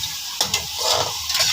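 Julienned carrots sizzle in a hot pan while a spatula stirs them, with a few scraping strokes over a steady fry; no voices.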